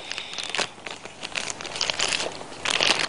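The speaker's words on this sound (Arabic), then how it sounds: "كيس عادي اهو" An ordinary plastic bag crinkles and rustles close up in bursts of crisp crackling, handled continuously for a few seconds with no talking over it.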